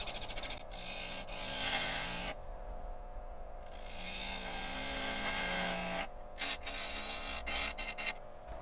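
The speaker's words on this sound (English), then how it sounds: "I'm gonna go ahead and come down with the small bowl gouge just to finish our round shape on the bottom here" Small bowl gouge making light cuts on a spinning live-edge wood burl on a lathe, a steady raspy scraping in long sustained passes broken by short pauses and a few quick clicks.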